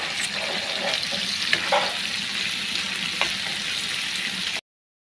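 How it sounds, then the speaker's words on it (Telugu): Onions, tomato, green chilies, ginger-garlic paste, dried lime, coriander, cumin and pepper powders fry in a pan for prawn biryani, a steady close sizzle with occasional stirring scrapes before it cuts off abruptly. "ఇలా అయితే మళ్ళీ ఉల్లిపాయలు, టమాటా, పచ్చిమిర్చి, అల్లం తెల్లగడ్డ పేస్ట్, అలాగని ఎండు నిమ్మకాయల పౌడరు, ధనియాల పౌడరు, జీలకర్ర పౌడరు, మిరియాల పౌడరు వేసేసి వేయించుకోవాలన్నమాట."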